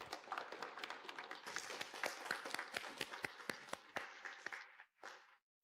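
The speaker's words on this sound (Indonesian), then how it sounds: "mari kita sambut dengan tepuk tangan yang meriah" A burst of hand clapping from an audience at a stage event, a dense run of sharp claps for about five seconds that tapers off with a final few claps.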